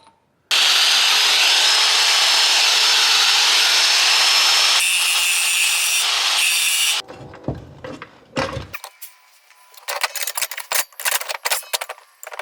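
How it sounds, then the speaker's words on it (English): Angle grinder shaving down metal on an E36 differential, a loud sustained high whine for several seconds that shifts pitch then stops, followed by scattered metallic clanks and handling noises close by. "we're gonna have to take the grinder and we're gonna have to shave some of this down"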